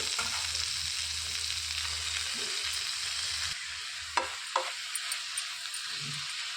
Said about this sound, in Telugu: ఆయిల్ వేడెక్కిందండి ఇందులోనికి కట్ చేసి పెట్టుకున్న ఈ చుక్క కూరని వేసేసుకోవాలి